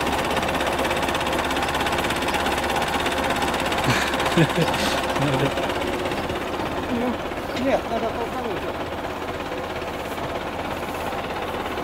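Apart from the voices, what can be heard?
tractor engine running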